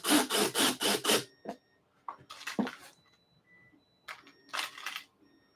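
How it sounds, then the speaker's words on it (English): A screwdriver drives a machine screw in pulsed bursts: a quick run of five close whirs, then a few separate short spurts with silence between them. "Why do you pulse the drill like that?"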